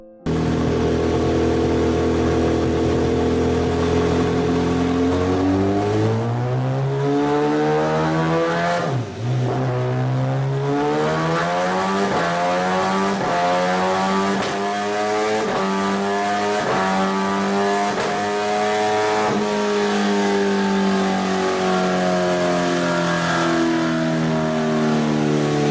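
An MV Agusta F4 sport motorcycle engine revving, loud and close, with repeated rising and falling throttle blips and sustained high revs, heard alone without talk.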